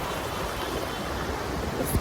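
Steady broadband rush of water flowing along Cheonggyecheon Stream in Seoul, continuous and fairly close, with no voices over it and a brief soft splash near the end.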